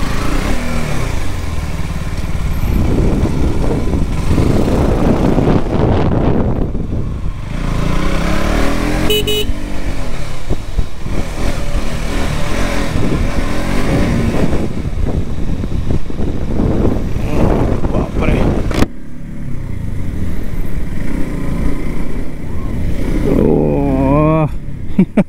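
A 2021 KTM RC 200 rides laps on a race track in Ahmedabad, its engine note rising and falling through loud passes and gear changes with intermittent wind buffeting, close and continuous throughout.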